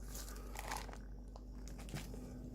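Plastic card savers tip over and clatter close by: a few quiet, light clicks and crinkly rustles spread over about two seconds, with no voices.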